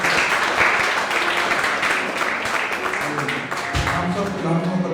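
Congregation clapping in welcome at a church service, a steady dense wash of applause with voices and music mixed in throughout.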